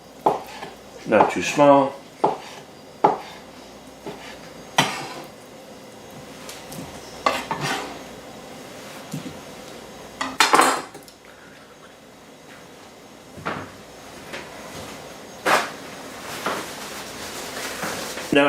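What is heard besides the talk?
cutting grilled octopus into chunks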